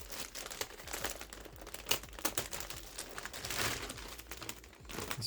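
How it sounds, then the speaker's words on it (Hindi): A taped package holding an orthopedic seat cushion is unwrapped, giving continuous close crinkling and crumpling of plastic wrap with a few tearing rustles, alone and without talk. "इसे ओपन एक बार कर लेते हैं कि इसके अंदर है क्या"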